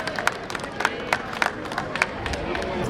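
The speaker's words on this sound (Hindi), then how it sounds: "जोरदार तालियां इस सम्मान समारोह के नाम" A crowd claps steadily at an award ceremony at a national championship, with sharp separate claps over a murmur of voices and a faint cheer.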